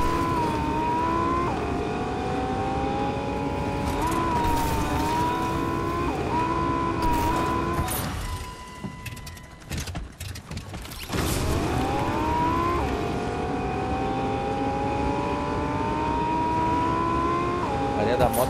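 A car engine in an online shooter video game revs and shifts through gears in rising whines, loud and continuous apart from a brief lull, with players talking over it.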